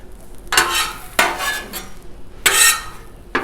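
Sausages being stirred and scraped with a metal spatula on a 36-inch Blackstone griddle, in four separate close bursts of scraping over a low sizzle.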